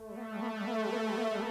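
A warbly, wavering synth lead for a beat, its detuned tones sliding and shimmering in a single sustained phrase, clear and alone.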